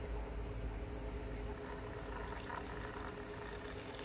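Hot oil in a pan readied for frying battered cauliflower florets for gobhi manchurian, giving a steady, faint sizzle and bubbling hiss throughout without any talking.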